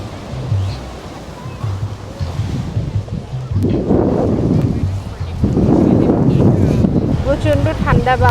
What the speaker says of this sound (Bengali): প্রচণ্ড ঠান্ডা বাতাস।